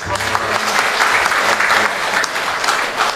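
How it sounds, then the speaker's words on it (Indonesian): A congregation applauds the novices at a novitiate blessing ceremony in Tanjungtirto, Yogyakarta, the steady clapping close and full throughout with a faint voice underneath. "Tepuk tangan untuk mereka."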